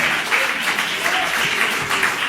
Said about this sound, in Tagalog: Palakpak, mga minamahal.